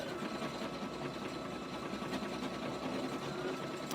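An embroidery machine stitches out long satin stitches on an appliquéd baseball bag tag, a steady close mechanical whir and rapid needle rattle running continuously without a break.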